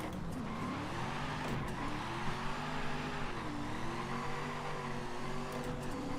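A drift car in Forza Horizon 5 drones with a steady engine note whose pitch rises and dips as revs change, with faint tire chirps, heard alone at moderate level.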